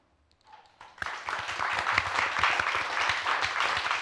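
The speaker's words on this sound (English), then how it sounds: "please join me in thanking our fantastic panel" An audience at a Science Gallery London panel discussion on AI, equity and healthcare applauds to thank the panel. The clapping starts faint, then swells at once into full, sustained applause with no voices over it.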